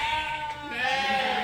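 Sheep bleat continuously as ewes are gathered and brought in on a farm, several overlapping wavering calls forming a dense, steady chorus.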